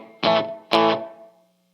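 Two strummed chords on an electric guitar with a single P90 pickup, gritty and distorted with some hum, each ringing briefly before fading out.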